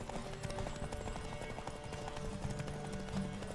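Horse hooves gallop in The Witcher 3 during a race, a steady rapid clip-clop close by that runs throughout, mixed with game sounds and background music.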